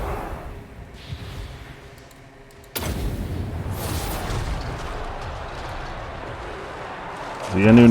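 A fiery explosion spell cast by Ogres in a Warhammer battle game erupts as a sudden loud boom, followed by a sustained roaring rumble under a talking voice, with a shout rising at the end.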